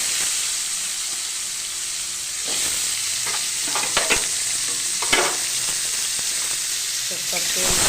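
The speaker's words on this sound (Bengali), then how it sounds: "আমি একটা কড়াই বসিয়েছি, কড়াইয়ের মধ্যে আমি প্রথমে লবণ হলুদ মাখিয়ে রেখেছি, এই আলুগুলোকে ভেজে নিই।" Potatoes rubbed with salt and turmeric fry in mustard oil in a wok, a steady close sizzle and hiss with occasional stirring clatters and scrapes over it.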